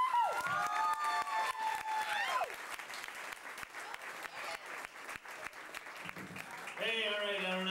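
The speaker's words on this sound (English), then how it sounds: "Please give him a warm round of applause." A comedy club audience at the Improv gives a comedian a warm round of applause, dense sustained clapping and some cheering under brief gliding whistle-like tones and a voice near the end.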